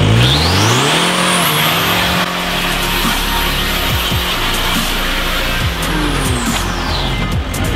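Audi car with front-wheel drive, wide tyres and no traction control accelerating hard on ice, engine revving loudly and climbing in pitch as wheels spin, with high squeals and shifts, close and continuous.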